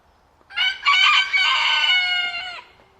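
Poland and Brahma chickens penned by breed give one loud, close rooster crow lasting about two seconds, with a brief cluck just before it over a quiet background.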